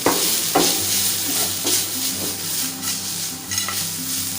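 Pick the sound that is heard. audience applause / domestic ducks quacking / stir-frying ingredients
stir-frying ingredients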